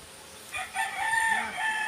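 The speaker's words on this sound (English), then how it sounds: "Some lovely cockerels there." A neighbour's cockerel crows in a garden in Bacolod City, one drawn-out cock-a-doodle-doo at moderate distance, rising and holding over roughly a second and a half with a faint background hum.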